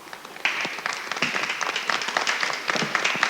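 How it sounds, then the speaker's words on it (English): A crowd at a Great American Smokeout event claps for youth ambassadors, starting suddenly and building into steady, moderately loud applause with individual sharp claps standing out. "We'd like to give you a round of applause."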